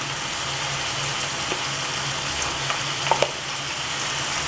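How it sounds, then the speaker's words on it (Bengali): Boiled taro greens with salt and turmeric fry and sizzle steadily in a pan while being stirred, with a constant close hiss and a few soft scrapes and clinks from the spoon, with no talking. "একটু ভালো করে নাড়িয়ে নিচ্ছি সব।"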